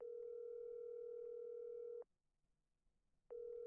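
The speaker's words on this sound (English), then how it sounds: "After about 5 seconds, the phone began to ring." A phone rings in the video game Witch on the Holy Night, a steady electronic tone lasting about two seconds, then a pause before the next ring begins.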